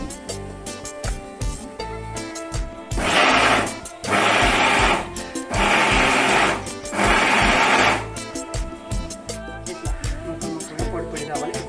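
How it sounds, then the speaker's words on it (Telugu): A kitchen mixer grinder pulverises raw prawns in four loud, even bursts of whirring, each about a second long with short pauses between, set against quieter background kitchen noise. "మిక్సీ పట్టుకున్నాం."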